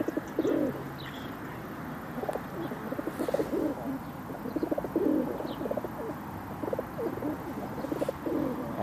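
Pigeons cooing nearby in Chelyabinsk in soft, repeated low bursts, with a few faint chirps and background noise in between.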